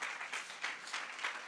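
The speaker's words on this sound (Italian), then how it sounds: "Un applauso alle pietre di Gozo." Faint applause from an audience at an Italian talk on the sounds and voices of the Earth, a soft, distant patter of clapping rising and falling in small waves.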